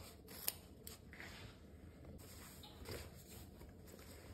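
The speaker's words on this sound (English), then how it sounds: "we will snip off the corners" Scissors snip off the corners of sewn fabric for a patchwork knitting bag, a few quiet close cuts over faint room noise.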